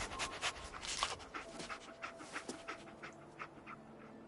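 The dog companion Dogmeat in the Fallout 4 video game pants in quick, steady breaths, close and fairly clear, with no talking over it.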